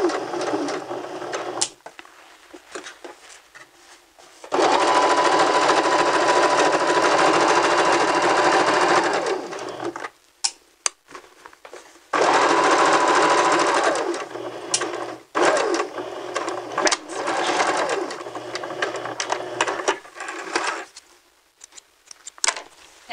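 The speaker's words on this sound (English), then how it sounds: "back stitch, sew all the way to the end, back stitch" A sewing machine runs a zigzag stitch along a side seam in several long bursts of steady, rapid whirring, broken by short pauses and brief back-stitch runs.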